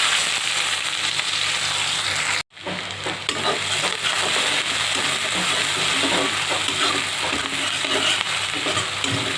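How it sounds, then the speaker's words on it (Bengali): Chopped onion, garlic and dried chili fry in a generous amount of hot oil with a steady, dense sizzle. Stirring and scraping run throughout, broken by one brief gap. "শুকনো মরিচ দিয়ে এখন আমি পেঁয়াজ আর রসুন কুচি দিয়ে দিই।"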